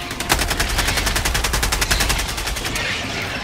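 A mortar firing in the video game Helldivers 2, a steady rapid stream of loud repeated shots lasting several seconds before tapering off, with no talk over it.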